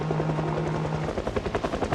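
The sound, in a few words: helicopter in the video game Project Zomboid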